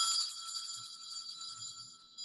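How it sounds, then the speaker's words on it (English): A school bell rings in a steady, continuous bright tone for a couple of seconds, fairly faint and alone with no talk. "the day starts with the school bell"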